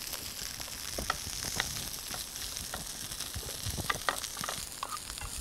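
Mushrooms with garlic and lemon sizzle steadily in a hot pan, a dense continuous crackle with scattered sharper pops and occasional stirring scrapes, close and moderately loud with no voices.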